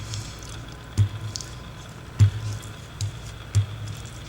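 Wet clay squeezed and rolled between the hands, four soft damp squelches at irregular intervals over a low background rustle, close and fairly loud.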